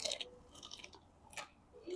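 Crispy tofu dipped in sweet soy chili sauce being chewed, heard as a few soft, close crunchy bites and mouth sounds, quiet and without talk.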